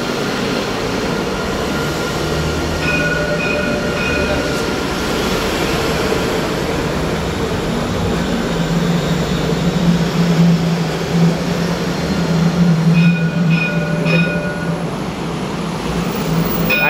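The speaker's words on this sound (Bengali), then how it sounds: "এখনই দুবাই ট্রাম যেটা সেটা চলে আসছে।" A Dubai tram pulls into a station with a steady, loud rolling rumble that swells midway, thin metallic squeals and tones flickering above it, and no voices.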